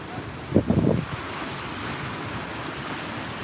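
Ocean surf washes constantly at Umzumbi flats, a steady roar with wind buffeting the microphone. A brief louder surge rises early on.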